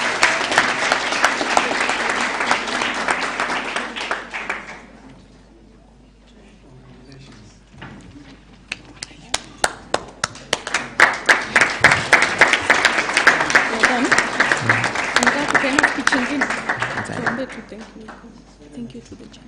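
Audience applause for an award winner receiving a medal and trophy at a Kenyan moot court competition: a loud burst of clapping, a brief lull with scattered claps, then a second sustained round.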